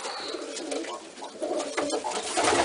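Roller pigeons coo inside a loft, soft low rolling calls repeating close by over a faint background hum and rustle.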